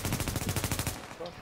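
Video game gunfire rips out as a fast, loud automatic burst of evenly spaced shots that stops abruptly after about a second.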